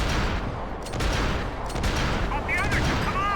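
Sniper gunfire in the Max Payne 3 game, a chaotic run of sharp repeated shots and bursts blending into a dense battle din, with a voice talking over it.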